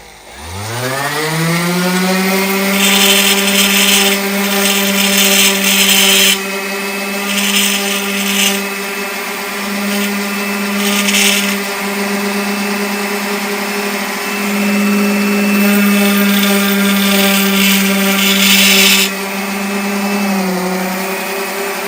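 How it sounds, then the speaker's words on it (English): A power sander or grinder works a part for a 1964 Ford Galaxie, a loud, close, sustained whine with a rising pitch at spin-up and bursts of harsh rubbing as the tool bites the metal. "how the heck do you sand this? This is what I'm doing."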